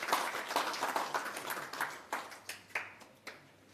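An audience at a post-State of the Province Address business breakfast applauds with dense clapping that thins into a few scattered, separate claps before fading out.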